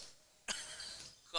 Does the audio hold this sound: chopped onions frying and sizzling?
no